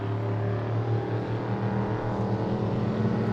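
Drag race engine warming up at the Long Beach Sprint Nationals, a loud, steady rumbling idle with strong low harmonics that holds constant throughout.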